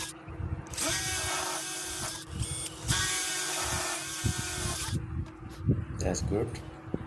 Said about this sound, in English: Drill hole.